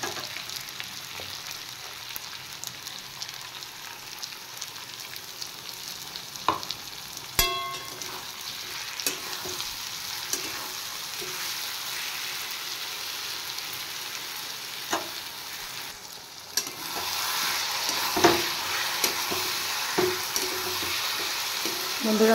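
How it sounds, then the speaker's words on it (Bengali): Bottle gourd and potato frying with spice paste in a pan, a steady close sizzle broken by repeated spoon scrapes and stirring strokes, growing louder and busier toward the end. "এবার আমি পেস্ট করা মশলাটা দিয়ে দেব।"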